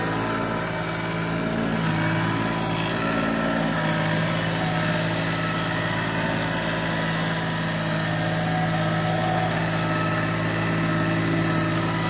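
A Kioti CK2620 compact tractor engine labours steadily as the tractor climbs a mountain track, a continuous close, loud drone with a constant mid-pitched hum and no talking.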